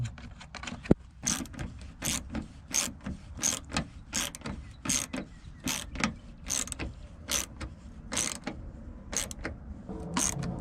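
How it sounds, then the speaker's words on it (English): A ratchet wrench tightening 10mm bolts on a 2008 Ford F150 during front parking light bulb replacement, rapid metallic clicking in repeated bursts, close and clear with no talk. "Tighten up these 10mm."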